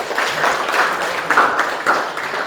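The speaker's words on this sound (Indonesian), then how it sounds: "kembali kita tandai dengan tepuk tangan yang meriah" Classroom applause from students, a steady broadband patter of many hands clapping together for a couple of seconds, moderately loud with a few stronger bursts and no talking.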